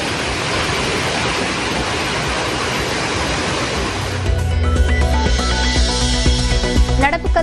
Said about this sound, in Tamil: குற்றால அருவிகளில் 2வது நாளாக காட்டாற்று வெள்ளம்.